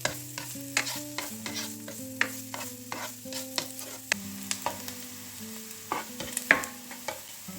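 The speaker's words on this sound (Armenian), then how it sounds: "Առանձին թավայի մեջ լցնում եմ մի փոքր ձիթապտղից հետ, նախ տապակում եմ սոխը։" Onions frying in a little olive oil in a pan, with a steady soft sizzle under repeated sharp scrapes and taps of a spoon stirring against the pan, close and fairly quiet, no talk.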